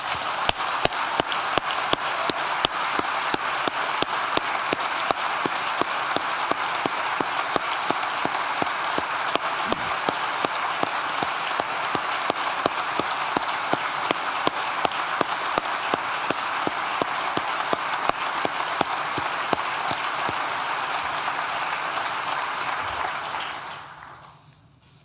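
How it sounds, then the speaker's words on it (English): Sustained applause from a large audience at a university graduation ceremony for the School of Science and Technology, steady and dense for over twenty seconds before fading out at the end. "we invite you all to join us in a round of applause to celebrate his achievement"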